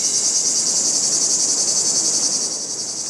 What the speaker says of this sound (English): Billions of brood X cicadas are set to emerge in parts of Ohio, Tennessee, Maryland, and Pennsylvania